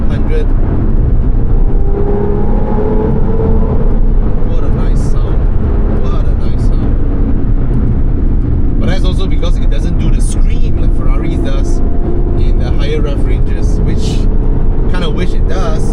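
A car engine in fourth gear at about 100 km/h drones steadily with wind and road noise, loud and continuous, while someone talks over it.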